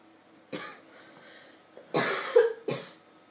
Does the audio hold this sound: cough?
yes